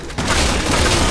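A grenade explodes in Resident Evil 6, a loud deep boom that swells after a brief pause and then rumbles on as a sustained roar with no talking.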